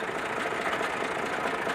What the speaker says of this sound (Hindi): Messi Ferguson 260 turbo 2021 model brand new tractor है जी